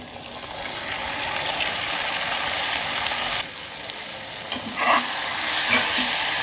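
Marinated chicken coated in salt, chili, turmeric, coriander powder and ginger-garlic fries with onions in a home kitchen pan, a steady loud sizzle broken by scraping stirs and a few sharp clatters.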